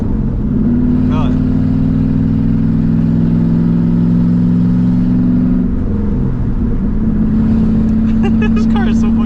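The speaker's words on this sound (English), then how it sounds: "This car is so fucking loud, bro." A 2007 Ford Mustang GT V8 running loud and close, with a steady heavy engine drone that dips briefly around the middle before picking back up, a voice speaking over it near the start and end.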